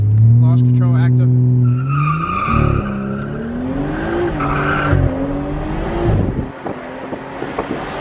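A stage 2 tuned BMW 340i with a high-pressure fuel pump and flex fuel kit spins out, its engine revving hard while the tires skid and squeal. Voices talk excitedly over the loud, close noise.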